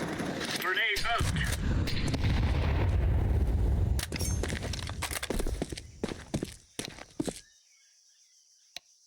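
A grenade thrown and bursting in Counter-Strike 2 gameplay: a loud, dense blast fills the first seconds amid gunfire-like cracks and footsteps, then thins into scattered sharp game noises before fading to near silence.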